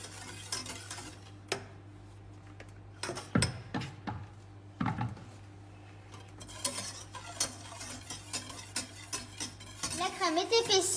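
Lime cream thickening in a pan is stirred with a utensil, giving repeated scraping and clinking strokes against the pan over a steady low hum, with the stirring growing quicker and busier toward the end.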